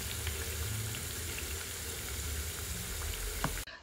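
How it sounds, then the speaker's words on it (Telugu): Vadas deep-fry in oil on a medium flame with a steady, dense sizzle and bubbling that stays close and even, then cuts off abruptly at the end, with no talk. "కాబట్టి ఖచ్చితంగా మీడియం ఫ్లేమ్లో ఉంచుకొనే వడలని కాల్చుకోవాలి"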